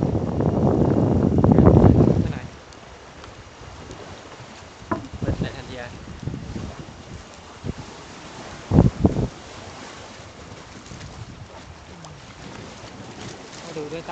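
Wind blows at a seaside resort pavilion on Koh Kood, a strong rumbling gust buffeting the microphone at first, then easing to a softer, steady breeze with brief bumps and faint surf-like wash.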